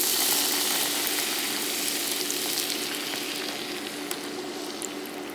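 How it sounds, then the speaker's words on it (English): Bone broth is poured into a hot pan and sizzles loudly and steadily, a dense, close frying hiss that eases slightly over a few seconds, with no talking. "I'm gonna add 1 container of bone broth soup to this pan here."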